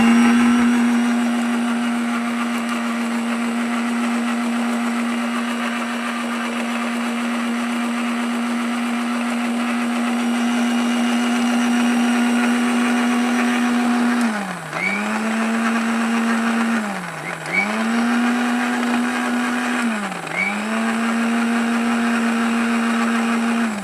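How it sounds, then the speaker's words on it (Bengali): A mixer grinder blends bright red hibiscus flowers with water, giving a loud, steady motor whine that runs throughout, with three brief dips in pitch late on. "তো এখন আমি এই জল সহ মিক্সির কাপে ঢেলে নিচ্ছি।"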